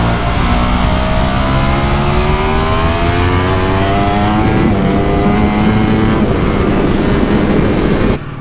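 A race car engine revs hard on a wet track in wet mode with traction control: a loud, continuous, close engine roar climbs steadily in pitch, then cuts off abruptly at the very end.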